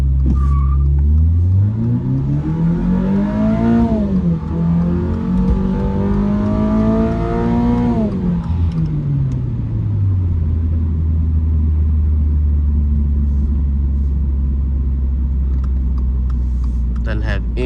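A 2024 Toyota GR86 with an automatic transmission accelerates hard from a stop, its engine revving up loudly through rising pitch with a gear change midway, then settling into a steady cruising drone.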